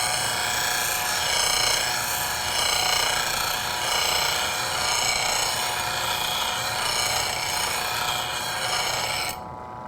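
Steel being ground off a woodturning bowl gouge on a grinder gives a loud, continuous, harsh rasping whir that holds steady for nearly ten seconds and then cuts off abruptly, with no voices.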